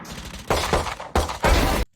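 Gunfire in the tactical shooter Valorant on the Haven map: two loud, close, crackling bursts of shots, the second longer, ending abruptly in silence.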